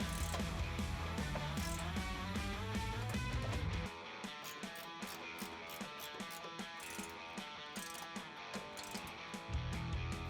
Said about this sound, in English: For these, I like to use a ratcheting wrench.